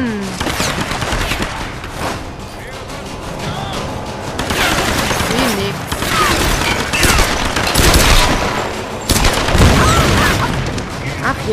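Dense bursts of rapid gunfire and explosions from the video game Tomb Raider (2013) fill the clip, loud and continuous with sharp booming hits.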